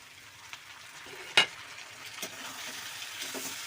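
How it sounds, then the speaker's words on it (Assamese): Chopped tomatoes fry in a pan with a soft, steady sizzle, one sharp clatter early on and a few quieter knocks of a utensil. "এইখিনি ভালদৰে ভাজিব লাগিব।"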